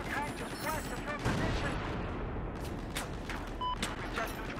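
Battlefield 4 gunfire rattles on continuously, dense automatic bursts with heavy booming shots close by, while voices talk over the din.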